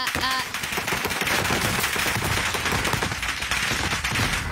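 Rapid automatic gunfire from a multiplayer shooter video game, dense continuous bursts filling the whole stretch at steady loud volume, with faint voice traces underneath.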